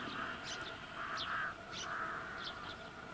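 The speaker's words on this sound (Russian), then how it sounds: "А сейчас приходится все время слышать вот этот вот грачиный вот этот крик." Rooks cawing at a spring nesting colony of over a hundred nests, several harsh calls overlapping at a moderate distance, faint against a steady outdoor background hiss.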